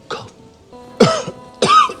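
Someone coughs in three sharp bursts, close and fairly loud, with short quiet gaps between; the middle burst is the strongest, each followed by a rough, raspy throat sound.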